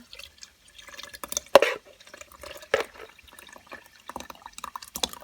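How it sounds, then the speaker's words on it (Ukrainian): Thick banosh mixture with dried onion and black pepper is poured into a prepared hollowed pumpkin, giving sparse wet glugs, drips and splashes with quiet gaps between them. "Підготовлений гарбуз, тепер виливаю нашу суміш для баношу"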